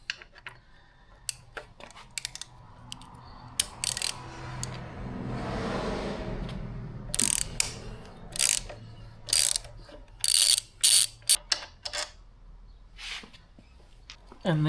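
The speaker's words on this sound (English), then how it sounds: "You're going to need a T50 to back off the top bolt" A T50 Torx wrench works on the brake pedal bolt of a KTM 690 Enduro R motorcycle with sharp, close ratcheting clicks in short bursts. Someone talks in between them.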